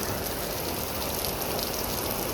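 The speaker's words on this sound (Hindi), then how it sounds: "बहुत तेज बारिश आई है गाइस, बहुत तेज वाली।" Heavy rain pouring down outside, a dense, steady, loud pattering roar with no pauses.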